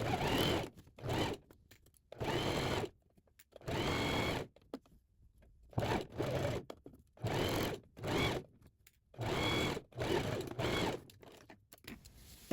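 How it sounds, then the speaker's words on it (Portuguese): Sewing machine stitching the V-neck of a women's dress shirt, running in repeated bursts of steady mechanical whirring separated by short pauses, close and alone with no talking. "Baixo a sapatilha e dou prosseguimento à costura."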